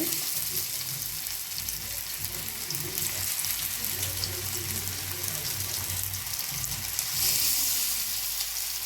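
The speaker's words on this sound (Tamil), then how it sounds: "இப்போ நம்ம வந்து எண்ணெயில் போட்டு பொறிச்சு எடுத்துடலாங்க" Marinated fish frying in hot oil gives a steady, dense sizzle and bubbling hiss, close and continuous throughout with slight swells in intensity.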